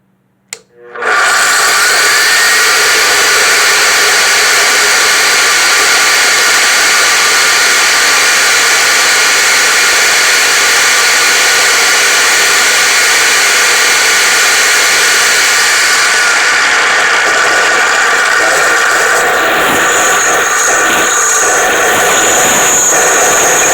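A Vevor 14-inch electric concrete saw with a diamond blade starts up abruptly and runs at a loud, steady high-pitched whine, its tone shifting slightly toward the end.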